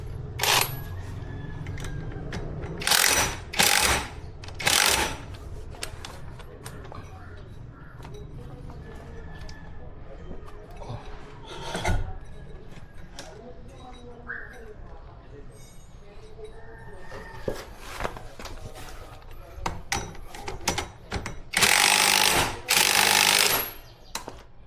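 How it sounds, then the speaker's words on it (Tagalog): Short bursts of an impact drill tightening the CVT set on a Honda ADV160 scooter, several loud rattling pulses scattered through the clip with a longer burst near the end, set against workshop background noise and someone talking. "higpitan lang natin siya ng konti gamit ang impact drill"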